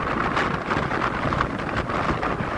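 Strong typhoon wind buffets the microphone in rough, continuous gusts near a shore where boats are moored and the water is running high, a loud roaring rush with no voices.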